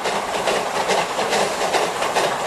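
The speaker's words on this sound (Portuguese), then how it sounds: "o apito da Maria Fumaça ainda ecoa pela mata" A Maria Fumaça steam train runs on rails through forest, a loud, continuous rolling rumble with a faint rhythmic clatter of wheels, heard close and alone.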